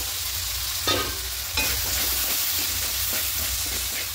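Green peas being sautéed in spices in a pan, a loud, steady sizzle with a couple of stirring scrapes, close up and with no voices.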